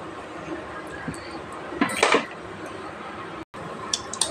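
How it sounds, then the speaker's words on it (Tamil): A pan and oil handled for tempering spices while making rasam, with a few light clinks and a brief clattering rattle of metal cookware near the middle, then quieter kitchen handling. "ஆயில் ஊற்றிக்கலாம் தாளிக்கிறதுக்கு."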